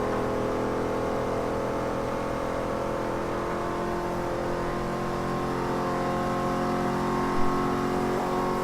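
A car engine in the racing game Forza Motorsport 3 holds a low, steady drone with stable harmonic tones, revving low like a diesel, unbroken and moderately loud.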